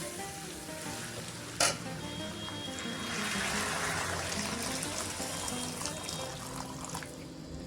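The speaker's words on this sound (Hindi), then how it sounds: "अभी में ऐड करेंगे पानी ऐड करेंगे।" Chicken liver curry with chicken masala sizzling and frying in a pan as water is poured in, a brief sharp splash near the start followed by steady close bubbling and hissing.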